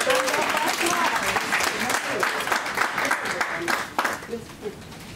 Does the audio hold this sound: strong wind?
no